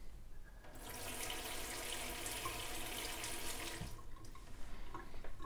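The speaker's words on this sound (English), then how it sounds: "And then, of course, you have filtered water." Filtered water pours steadily from an IVO tap filtration faucet into a sink, a continuous close splashing stream that starts abruptly and cuts off near the end.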